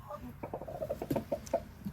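A rooster and hens in a pen give quick, clustered clucks, a rapid string of short calls at close range.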